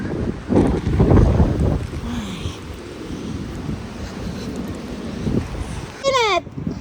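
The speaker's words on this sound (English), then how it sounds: "It's windy. Your birthday is windy." Gusty outdoor wind buffets the microphone in loud, rough bursts at the start and again near the end, with quieter blowing between.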